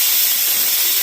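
Pressure cooker venting steam after cooking moong dal with greens, a loud continuous close hiss lasting about a second before cutting off abruptly.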